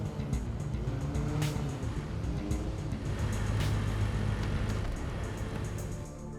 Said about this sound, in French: On va garer ma voiture dans un parking souterrain à l'abri des regards.